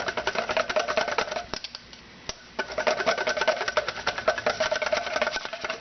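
Mayonnaise is whisked hard as oil is added, making rapid, close clicking and rattling strokes in a fast rhythm, with one brief pause midway before the vigorous mixing resumes.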